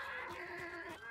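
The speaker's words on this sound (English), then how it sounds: "Fucking horse, dude." A horse in the video game Hunt: Showdown gives a short, faint whinny with a wavering, bleat-like tone lasting about a second, heard alone.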